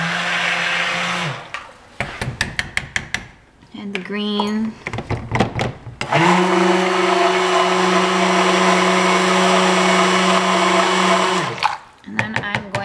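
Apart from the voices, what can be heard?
stick blender mixing soap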